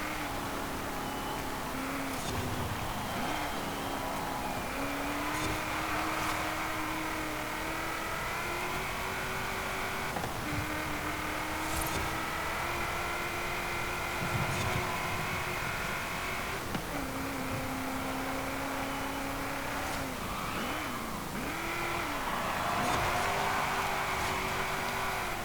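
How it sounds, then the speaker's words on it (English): A 2015 Ford Falcon GT F 351 engine in Forza Horizon 5 hums steadily, its pitch rising and dipping with throttle blips and revs, continuous over the whole stretch. "it's got a superb sounding engine"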